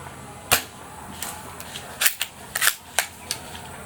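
An airsoft Lee Enfield No.4 rifle with a very stiff bolt fires, giving a short sharp snap. Several fainter clicks and clacks of bolt handling follow in quick succession, close up, with no talk.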